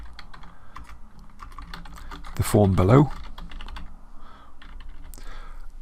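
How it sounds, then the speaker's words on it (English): Keys are typed on a computer keyboard while building a form section in a web app editor, light rapid clicks running under a man's speech throughout. "we were just typing here something like"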